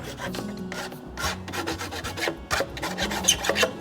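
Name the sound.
filing with a rasp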